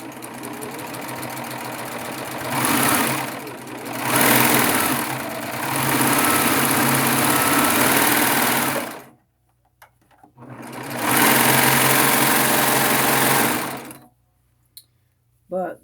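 A Baby Lock Triumph serger sews a four-thread overlock stitch to stabilize a shoulder seam on knit fabric, whirring loudly in several bursts of a few seconds each with short pauses between, then a brief final burst.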